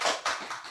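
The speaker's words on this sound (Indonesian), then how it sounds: "Tepuk tangan." A few bursts of hand clapping from a class in a religious studies lesson, short and fairly faint, with no talking.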